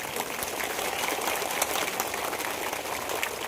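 A crowd of children claps loudly together at a government school inauguration in Malur taluk, a dense, steady wash of applause that carries on without pause, with no talk.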